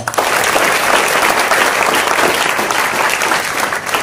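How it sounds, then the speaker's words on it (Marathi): Loud, steady applause from a school audience honouring a visiting lecturer, dense clapping filling the space without a break and fading slightly at the end. "म्हणून सरांसाठी जोरदार टाळ्या."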